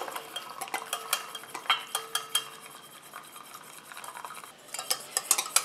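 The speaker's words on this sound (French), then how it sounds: "Et je mélange." A utensil stirs cupuaçu body butter mixture in a bowl just after water is added: rapid, close clinking and scraping strokes that repeat steadily, with no talking.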